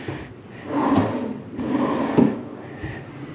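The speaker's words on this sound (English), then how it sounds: "you've got your empty drawers here for your clothes." Empty wooden drawers in a Disney All Star Movies Resort hotel room slide open and shut twice, close and clear, each with a sliding rumble ending in a soft knock.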